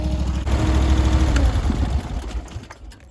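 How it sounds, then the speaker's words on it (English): A Japa 365 Pro firewood processor's engine shuts off: a loud, steady knocking mechanical drone runs for about two seconds, then winds down and fades into near quiet. "now we're going to turn the engine off"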